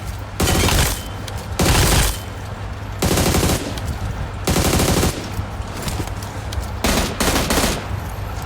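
AUG assault rifle firing in PUBG: repeated full-auto bursts, each about a second long, loud and close, separated by short pauses with steady game background in between.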